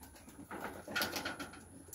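Soft, low pigeon cooing nearby at a racing pigeon release point, a burbling call rising and fading over a couple of seconds, with faint background noise and no speech.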